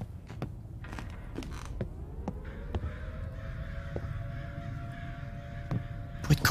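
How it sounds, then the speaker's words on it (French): A crow caws repeatedly in the horror video game Summer of 58, sharp isolated calls spread over a quiet background with faint creaks. "Bruit de corbeau et tout."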